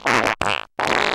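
Fart sound effects from a comedy sound effects library: two short, loud, buzzy blasts separated by a brief gap, followed by a third sustained one, with no voices.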